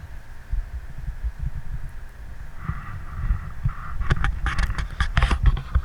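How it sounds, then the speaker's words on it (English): Camera handling noise on a trail ride with CRF250L and DRZ400 dirt bikes, with low thumps and rumbling at first, then sharper scraping and rustling clicks toward the end, close to the mic, no talking. "Handling the camera just makes all kind of noise."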